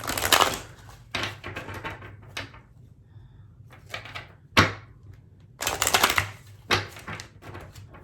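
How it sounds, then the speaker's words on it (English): Angel oracle cards being shuffled and drawn from a deck, giving bursts of crisp riffling and slapping card sounds separated by quieter pauses, close by with no talking. "I'm going to go ahead and draw all of the cards"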